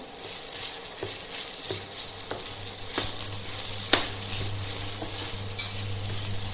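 Spices, turmeric and red chili powder, sauté in hot oil in a pan for sprouted moth bean khichdi, giving a continuous sizzle broken by occasional sharp scrapes and clicks of a stirring spoon.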